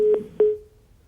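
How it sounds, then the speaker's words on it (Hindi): A phone call cuts off into a disconnect tone: two short steady beeps, the second trailing away into silence. "संपर्क टूट गया है, फोन कट गया शायद सुमैया राणा का।"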